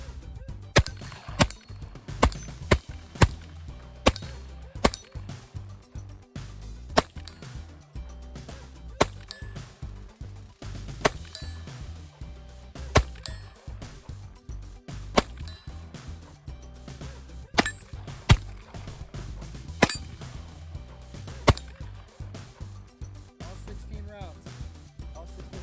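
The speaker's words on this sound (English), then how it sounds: "We've got some Aguila 40 grain super extra, and we're gonna see how that runs through it" A Taurus TX-22 pistol fires Aguila 40 grain Super Extra rounds outdoors, a string of sharp, irregularly spaced cracking shots over roughly twenty-five seconds, with a person talking underneath at times.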